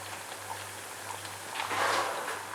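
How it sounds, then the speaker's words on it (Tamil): Gram flour snacks frying in hot oil until crisp, a steady hiss of dense bubbling and crackling that grows louder and busier toward the end. "நல்லா மொறுமொறுன்னு ஆகிற வரைக்கும் வறுக்கணும்"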